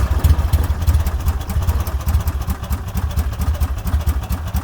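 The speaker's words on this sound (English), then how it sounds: "The engine back here, you can see the conversion we did." A small engine in the rear of a King Midget microcar, fitted as a conversion and driving a torque-converter automatic, runs at a steady idle with a loud, close, low throbbing chug and light clatter, no talking.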